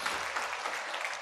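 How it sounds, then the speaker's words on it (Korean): A church congregation claps together in a short burst of dense, steady applause during a Sunday service, with no voices over it. "박수 한번 칩시다."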